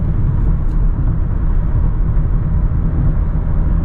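A 2021 Mazda MX-5 Miata RF with a six-speed manual and hardtop accelerates to overtake on the highway, heard as a loud, steady low engine and road rumble from inside the cabin, without talk.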